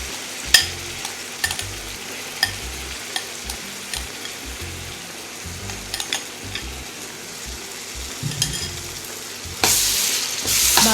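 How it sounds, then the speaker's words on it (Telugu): Sliced onions and onion paste fry in a pan with a steady close sizzle, punctuated by intermittent metallic stirring scrapes and clinks, growing louder and hissier near the end; no talking. "బాగా ఫ్రై చేసుకోవాలి ఇది"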